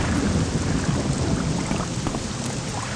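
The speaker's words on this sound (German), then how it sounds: "Ja, besonders bei dem Regen." Steady rain pours down with rumbling thunder in the game Morrowind, a dense, loud, continuous wash of sound with no talk.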